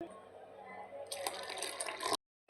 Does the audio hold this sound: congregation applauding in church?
no